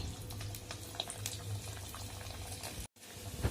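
Raw banana cutlets fry in hot oil over a medium flame, giving a steady soft bubbling sizzle with scattered pops. A brief dropout of silence interrupts it near the end.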